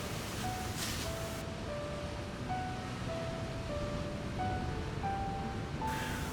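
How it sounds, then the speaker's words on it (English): Ocean surf rolls and crashes against coastal rocks at Yachats, a dense, steady wash of broadband noise heard alone, fairly soft and continuous without distinct breaks. "The beauty of the waves is that each one crashing out of the ocean is different."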